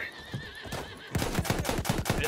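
A horse neighs in the Battlefield 1 video game, a loud whinny followed by quick clip-clopping hooves and battle noise, with no talk over it.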